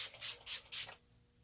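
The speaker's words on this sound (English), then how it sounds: "All right, one more spritz." Several quick hissing spritzes of a makeup setting spray, about four short bursts in a row, close and clear, then quiet.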